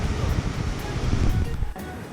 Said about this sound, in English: Welcome to the acid waterfall.